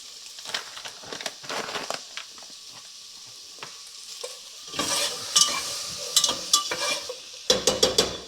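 Cloves, a small cinnamon stick and green cardamom pods sizzle in hot oil, crackling and popping in irregular bursts that grow louder and denser toward the end, with occasional stirring scrapes.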